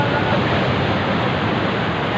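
Sea waves crash on the shore at Burgos, Pangasinan, a loud, steady wash of surf roar that stays close and unbroken throughout.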